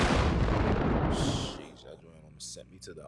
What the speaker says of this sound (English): Matter of fact, gunshot salute.